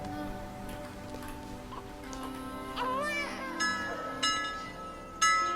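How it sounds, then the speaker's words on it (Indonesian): Bright metallic rings strike a few times against a soft, steady musical background, each ring sustaining before the next, growing louder toward the end. "Lonceng-lonceng telah dibunyikan."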